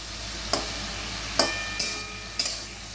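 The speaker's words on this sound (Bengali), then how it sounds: "একটু ভালো করে নেড়ে চেড়ে নেবো যাতে শাপলার ভেতরে যে জলগুলো বেরিয়ে যায়" A spatula stirring water lily stems with a hilsa fish head in a pan: four sharp scraping strokes at uneven intervals over a faint, steady sizzle.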